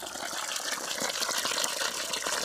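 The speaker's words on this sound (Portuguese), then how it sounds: "Tá enchendo um balde desse d'água." Water from an artesian well pump gushing into a 10-liter bucket, a dense continuous splashing rush, close and steady throughout.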